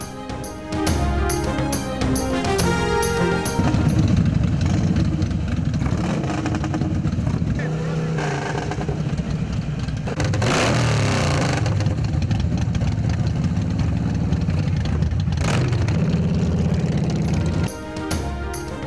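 Heavy motorcycles being started and revved at a heavy bike show in Karachi, their engines loud and continuous, rising and falling under speech and background music.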